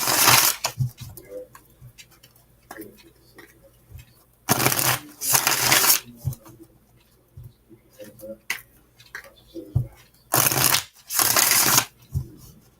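Tarot cards being shuffled come in several loud riffling bursts with quiet gaps between them, with soft handling noises and occasional speech in the pauses.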